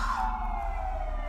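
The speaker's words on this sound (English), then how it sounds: "apologize for the sirens in the background" An emergency siren wails in the distance in Brooklyn, its tone sliding slowly downward over a low background rumble.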